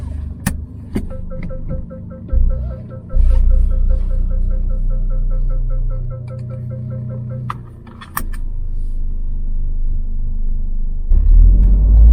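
A Toyota GR Corolla fitted with a dead-weight shifter upgrade idles and drives off, with a steady low engine rumble, a few sharp clicks and clunks from the cabin, and a brief dip before the engine note swells again.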